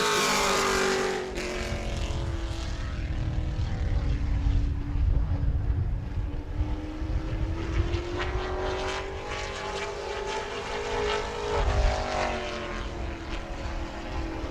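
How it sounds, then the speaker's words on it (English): A Pro Late Model race car on a qualifying lap at New Smyrna, its loud engine roaring steadily as it passes, pitch sliding with the car's movement and dominating throughout. "Stephen Reddit coming by to complete lap number 1"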